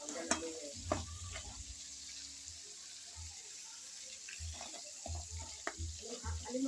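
Crab fries with garlic in a pan, giving a soft steady sizzle beneath irregular scraping and stirring knocks, with light clatter throughout.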